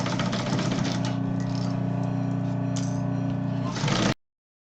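Sewing machine stitching a straight seam along the teeth of a zipper with a stitch length of 3, the presser foot riding against the zipper teeth; a steady, close, continuous whirring hum of motor and needle that runs for about four seconds, then stops abruptly.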